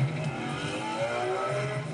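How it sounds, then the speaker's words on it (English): A Ferrari 599 drives a road test through hills near its factory, its engine a steady, fairly loud drone with some rising revs across a short stretch. "So in the hills above the Ferrari factory, each one's put through a second road test."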